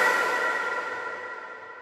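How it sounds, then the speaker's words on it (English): Dark, ominous ringing tail of a light cinematic impact effect from a Lunar collection, a bright sustained shimmer slowly dying away, alone with no voices. "That's the sound of the light impact hill."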